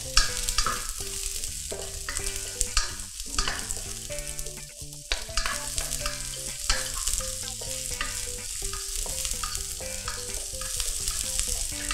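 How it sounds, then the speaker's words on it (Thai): Garlic and onion stir-fried in a hot pan for Thai train-style fried rice with squid and shrimp to follow: a steady loud sizzle broken by frequent spatula scrapes and knocks, with sustained tonal sounds running underneath throughout. "ผัดให้กระเทียมหอมครับ ก่อนนั้นก็จะใส่หอมใหญ่ลงไปเลยนะครับ"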